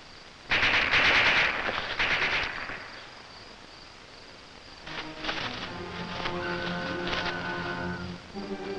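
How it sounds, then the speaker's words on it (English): Warning shots from a .22 rifle crack out in a rapid burst near the start, then fade into quiet. Music swells in afterward, in a wartime film scene. "Skipper fired to warn us."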